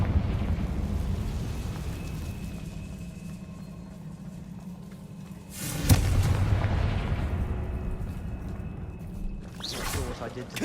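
A Confringo fire spell bursts into a sudden deep boom in Hogwarts Legacy on PS5, rising out of a rumbling ambient bed, with a character calling out and speaking over the game audio.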